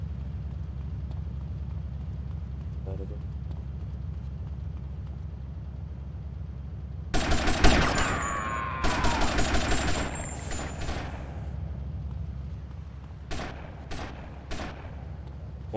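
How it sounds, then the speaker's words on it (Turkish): Game shotgun fire in GTA Vice City: a rapid burst of loud shots erupts over a steady low hum, followed by a few scattered single blasts. "Pompalılarla sıkıyorlar ha."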